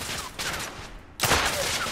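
Continuous dense gunfire in the PS4 game The Order: 1886, a loud sustained volley that briefly dips and then surges back even heavier.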